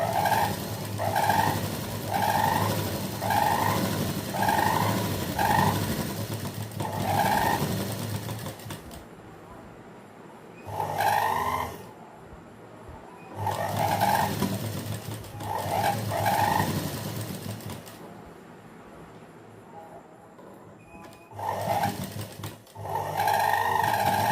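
A sewing machine stitches along the side of a blouse lining in several runs of fast, rhythmic mechanical whirring, each separated by short pauses and stops.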